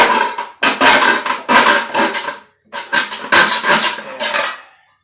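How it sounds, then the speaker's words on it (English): Loud metallic banging in two bursts of rapid hammer strikes on a metal minnow bucket, ringing and clattering, separated by a brief pause. "I think my hammer is just pushing my metal out."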